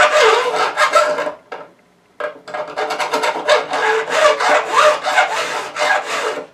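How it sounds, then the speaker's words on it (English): A mill file rasps across guitar frets, the thumb steadying it, in a rapid run of dense scraping strokes that pauses briefly and then resumes, close and loud with no talking. "I am going to take that one mill file you had there"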